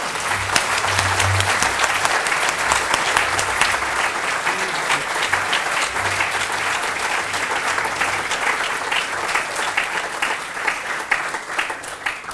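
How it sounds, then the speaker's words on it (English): A warm, sustained round of audience applause fills a museum hall after a talk by Holocaust survivor Eddie Jaku, dense, steady clapping from a large crowd that holds for the whole stretch without a break. "Please join me in giving Eddie another very warm round of applause."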